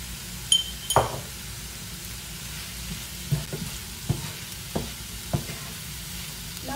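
Puttu kothu mix with turmeric sautés in a pan over low heat, giving a quiet, even sizzle with occasional stirring scrapes and light clinks of a utensil against the pan.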